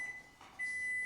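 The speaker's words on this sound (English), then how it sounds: "Timer." A kitchen timer beeps after keto chocolate brownies have come out to cool, giving a steady, thin electronic tone that breaks off briefly, then resumes, fairly faint and close, with no talking.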